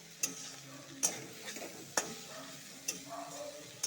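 Soft sizzling of leafy greens frying in a pan, with a utensil scraping in regular strokes, sharp clicks about once a second, no voices.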